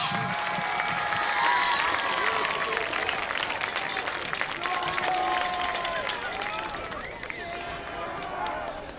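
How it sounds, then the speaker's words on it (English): A large crowd at halftime of a St. Albans vs. Huntington Highlanders game at Marshall University applauds and cheers, a dense wash of clapping with voices rising through it, steady throughout and fairly distant. "Give them a big round of applause."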